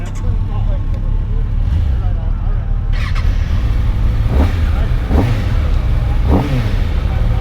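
A Kawasaki ZX6R sport bike engine drones loudly at speed, repeatedly revving up through short rising bursts, with a voice speaking briefly over the engine.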